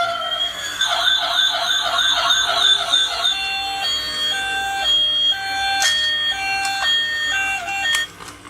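A white and black musical toy police car plays its electronic siren, a loud, close wailing tone that sweeps up and down, then switches to steady alternating beeps and a few short chirps.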